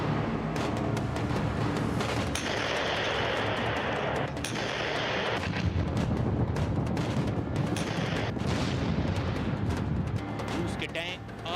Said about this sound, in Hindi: रूस की फौज पिछले एक हफ्ते से बेलारूस में बम गोला बरसा रही है